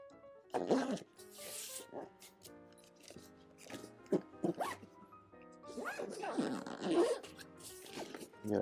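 Zipper on a cover for a Golden GB-120 Carryon mobility scooter, several quick rasping zip pulls with rustling fabric between them, close and clear, with a voice talking in the background.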